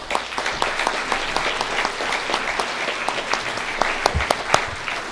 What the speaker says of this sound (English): Why don't we give one final round of applause for all of the Eureka winners